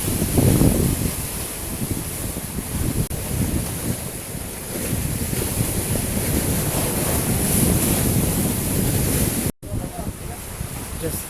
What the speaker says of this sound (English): The sea, the rough sea.